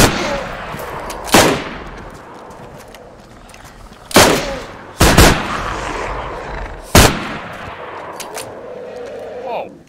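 Shotgun blasts ring out in a DayZ match against dinosaurs, four loud broadband shots spaced unevenly across several seconds over a rumbling, busy background.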